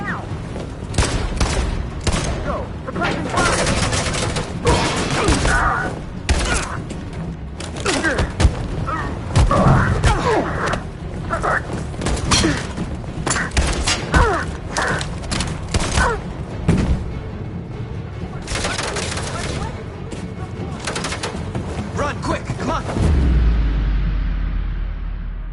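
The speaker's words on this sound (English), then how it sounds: "Suppressing fire!" Sustained suppressing gunfire in the video game Detroit: Become Human, loud rapid bursts and booming impacts that stack up continuously, with shouted voices mixed in over the shooting.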